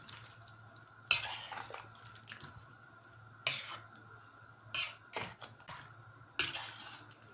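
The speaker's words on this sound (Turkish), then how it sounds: "Şöyle güzelce karıştıralım" A spoon stirs a broad bean dish in a cooking pot, seasoned with salt and red pepper flakes, giving several scraping, clinking strokes spaced a second or two apart over a quiet kitchen background.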